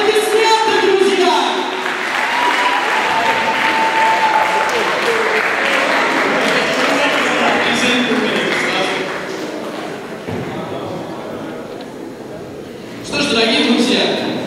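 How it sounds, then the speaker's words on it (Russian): Enthusiastic audience applause at a KVN final performance, loud sustained clapping from a large hall that fades down midway, then surges again near the end. "Аплодисменты, друзья!"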